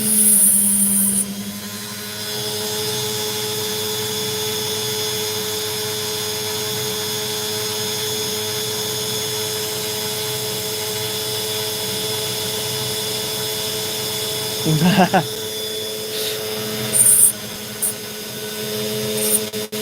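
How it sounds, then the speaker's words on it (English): A rotary Dremel tool grinds the outer skin off a rough opal, a steady high-pitched whine held for many seconds, close and loud, with a brief louder burst of contact grinding near the end. "I just need to grind away some of the opal skin"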